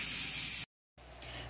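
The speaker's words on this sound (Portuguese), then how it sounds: "Vou esperar sair totalmente a pressão." A pressure cooker cooking pork ribs with cassava vents steam in a loud, steady hiss that cuts off abruptly, then resumes more faintly.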